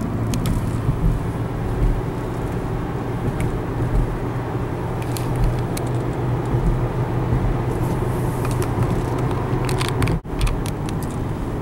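A car exits a highway, with steady road and engine rumble running continuously throughout and a brief clunk near the end.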